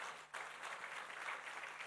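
Audience applause at a church sermon, a steady wash of clapping from a crowd, brief and continuous.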